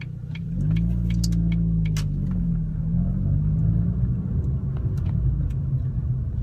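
A Ford Focus RS Mk1 driving, its engine giving a steady low rumble with a slight rise in pitch, heard close from inside the car and with no talking.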